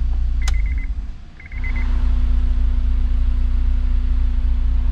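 A Honda S2000 sports car engine rumbles steadily at idle, with a couple of short electronic beeps early on before the engine note settles into a constant drone.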